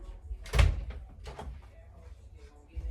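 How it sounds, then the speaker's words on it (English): A nearby door is pulled shut tight with a single solid thump, followed by a faint latch rattle and soft shuffling, with some voice in the background. "can you come close my door real quick for me? Pull it tight, please."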